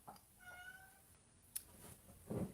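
A cat meows softly in a quiet room, one drawn-out harmonic call followed by fainter sounds and a brief louder rustle near the end, with no talking.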